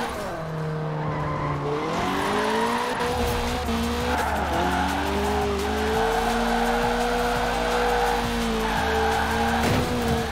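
An Audi Quattro in Forza Horizon 4 drives hard with a loud, continuous engine roar and shifting pitch as gears change, while tires squeal and skid throughout.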